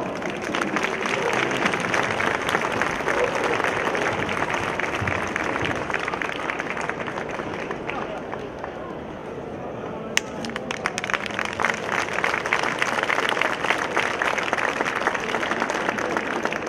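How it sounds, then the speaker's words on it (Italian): Sustained, loud applause from a large audience at an international band music festival, greeting a youth brass band, dense clapping that continues steadily throughout, with a brief dip partway before swelling again. "un grande applauso"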